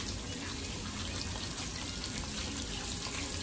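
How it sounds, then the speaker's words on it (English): Tap water running steadily in a kitchen during cooking, a faint, even hiss of flowing water with a slight sizzle-like texture, continuous and without breaks or voices. "Let me wash my hands."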